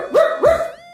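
A dog, Cachorro Lelé from a children's story, gives two short, clear barks in quick succession, fairly close and alone, the second trailing into a brief tonal whine.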